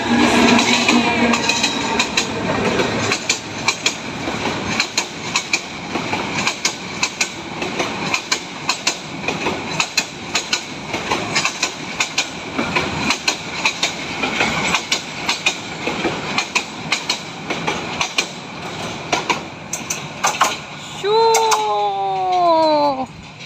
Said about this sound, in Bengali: প্রচুর স্পিডে ট্রেন আইতেছে।